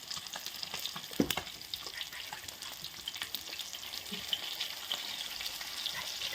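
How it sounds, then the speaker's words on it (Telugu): Pieces of spicy fish fry steadily in a pan of hot oil, giving a continuous soft crackle and sizzle with occasional louder pops and stirring noises, close by and with no talking. "ఇప్పుడు మన చేపలు వేగినాయి"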